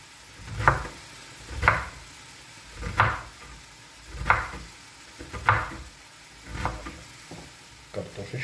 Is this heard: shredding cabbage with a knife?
yes